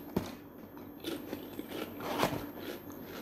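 Crispy potato chips crunch close up, scattered sharp crackling bites and chewing with short gaps between them, moderately quiet and with no voice.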